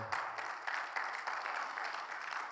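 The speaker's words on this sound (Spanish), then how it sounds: "Denle un fuerte aplauso" Faint, steady clapping from a crowd at a Bible seminar, a dense patter that carries on evenly without a break.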